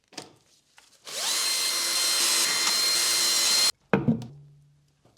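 A power tool on a BMW M3 Competition whines steadily at close range for about three seconds as the wheels come off, preceded by brief clanks and followed by short knocks and a low hum.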